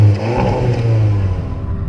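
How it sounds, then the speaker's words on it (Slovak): A Škoda Superb's engine and exhaust rev hard with a deep droning rumble that rises and then eases off, loud and close, with no talk. "A Cupre je podobný tiež zvuk motora s výfukom, hoci Superb nie je športové auto"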